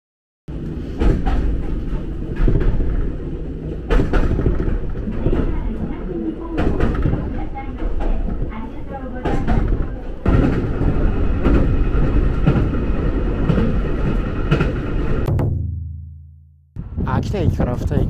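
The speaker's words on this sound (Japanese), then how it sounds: "これからちょっと電車に乗って移動していきたいと思います" Ride on a local train departing Akita Station for Tsuchizaki, two stops away: a steady rumbling carriage with rhythmic clatter and rising motion noise, close and continuous, then a brief drop to quiet as it slows, with a voice talking over parts.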